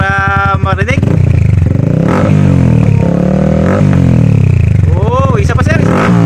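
A Yamaha Sniper 155 with a full Akrapovic exhaust and no silencer revs hard up close, loud rising and falling engine sweeps over a rough idle, with people talking briefly in between.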